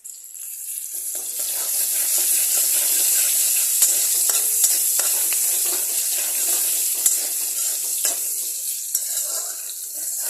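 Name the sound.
chopped onion sizzling in hot oil in a kadai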